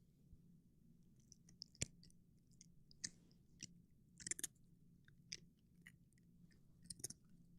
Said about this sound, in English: Those are the crunchiest treats that ever crunched.